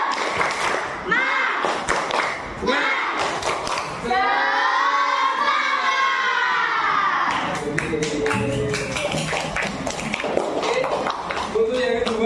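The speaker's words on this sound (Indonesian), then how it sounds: "sekarang kita tepuk semangat ya, biar semangat, biar suasana kelasnya menjadi riang" Classroom of children doing the 'tepuk semangat' clapping chant, loud rhythmic claps and shouted chanting in bursts, with a teacher's voice leading between them.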